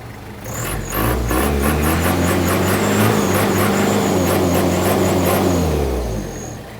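A 2-litre LH112 van engine runs steadily at close range, a loud continuous idle with a low rumble and a faint high whine, holding even throughout with no speech over it.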